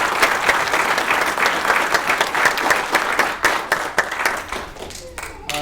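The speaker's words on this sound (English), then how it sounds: "So I want to give you a round of applause." Audience at a military colonel's promotion ceremony breaks into sustained applause, many hands clapping fast and loud, then thinning to scattered claps near the end, with a voice speaking briefly underneath.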